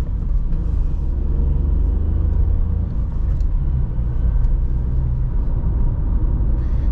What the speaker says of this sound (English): So we're getting to the highway. I'm gonna speed up a little bit.